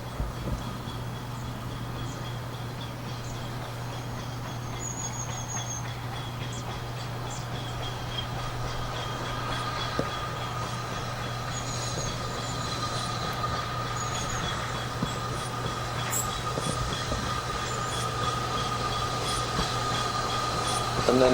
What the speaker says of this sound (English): But again, this train's going to come nicely towards us.